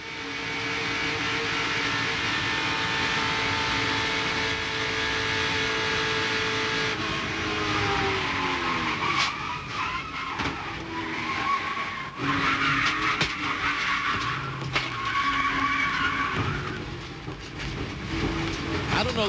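Stock cars in a 1998 NASCAR race crash, with engines roaring and tires skidding loudly through the wreck under a continuous broadcast mix of crowd and track noise.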